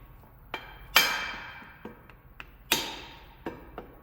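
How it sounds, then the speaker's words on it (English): Hammer blows on a universal joint at a vehicle's front yoke, during transfer case work: a handful of sharp metallic strikes with ringing decay, two heavier than the rest, spaced irregularly and close by. "the shocking with the hammer will jar it and make it move"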